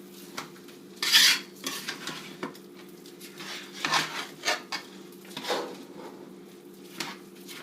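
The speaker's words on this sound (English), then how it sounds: "You have to mix this to get color on the rice." A utensil scrapes and knocks against a pot while rice is stirred for arroz con gandules, producing irregular close rubbing strokes and clinks at a moderate level, with no talking.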